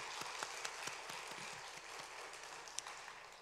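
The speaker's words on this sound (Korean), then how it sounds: "우리 격려의 박수 함께 하면 좋겠습니다." A church congregation gives a brief round of encouraging applause after a children's worship performance, faint and sparse with individual claps standing out at an uneven rhythm.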